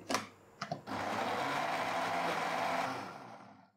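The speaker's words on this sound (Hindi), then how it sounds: "तो ये कटे हुए आम हम ब्लेंडर जग में डाल देंगे" After a few knocks and clatters, a blender jug of chopped mango starts up into a loud, steady whirring buzz that holds for a couple of seconds and then winds down.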